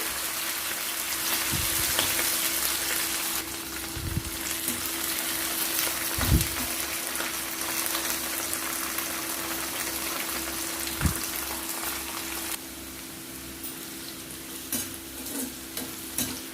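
Ivy gourd (tindora) pieces fry in hot oil with a steady, dense sizzle lasting throughout, punctuated by a few dull knocks of stirring, and the crackle eases slightly near the end.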